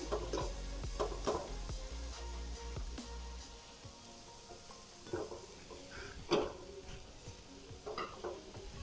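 A fresh coconut vadi mixture is stirred in a pan, with soft scraping and clinking strokes at irregular intervals over a faint, low sizzle, close by and fairly quiet, with no voices.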